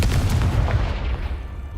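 The Confringo blasting spell from Hogwarts Legacy goes off as a single heavy boom with a rumbling low tail that fades over a second or two, loud and close.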